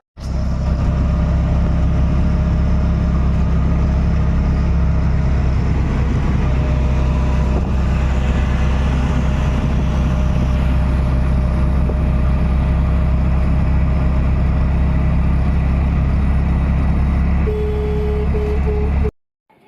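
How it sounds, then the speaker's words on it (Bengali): An auto rickshaw engine runs steadily while riding toward a station in pre-dawn darkness, a loud continuous rumble with road noise and no talk. "অটোতে উঠে গেছি"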